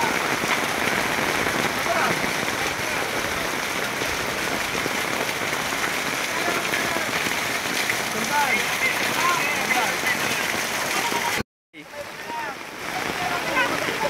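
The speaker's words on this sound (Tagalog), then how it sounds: "ang lakas talaga ng ulan dito." Heavy typhoon rain pours down in a dense, constant roar, briefly cut off near the end before resuming.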